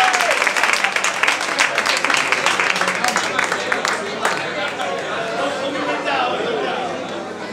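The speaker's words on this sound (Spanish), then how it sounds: "Fuerte aplauso." Loud, dense applause from an audience at a bar during a guitar solo contest, with clapping and crowd chatter sustained throughout before easing slightly toward the end.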